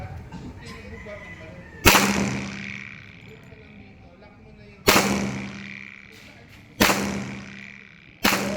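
Four sharp, loud shots from a Glock 21 .45 caliber pistol ring out at uneven intervals at a firing range, each with a short echoing tail, over low background noise and faint voices.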